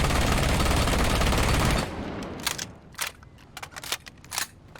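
An Ela Scorpion submachine gun in Rainbow Six Siege empties its magazine in one loud, dense burst of rapid automatic fire lasting under two seconds. Scattered sharp mechanical clicks and clacks follow at lower volume.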